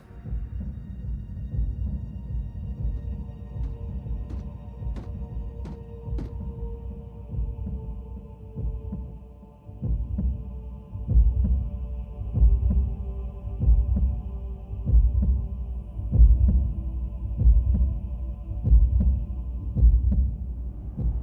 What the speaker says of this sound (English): a Cybertronian heartbeat?